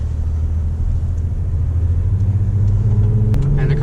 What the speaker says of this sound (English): And the car sounds pretty good too.